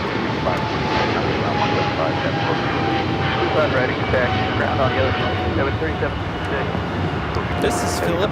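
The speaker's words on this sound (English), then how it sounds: "113 taking off to Manila on the 777-300ER" A Philippine Airlines Boeing 777-300ER takes off from LAX with a steady, broad, roaring jet rumble that holds throughout, heard from a distance, with faint voices under it.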